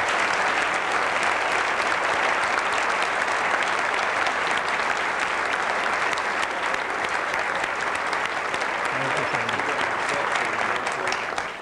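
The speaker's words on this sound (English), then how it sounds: "would you please give a round of appreciation and applause to our guests here tonight" Sustained applause from a forum audience honouring the evening's guests, a loud, dense, continuous wash of many hands clapping for over ten seconds, easing off only at the very end.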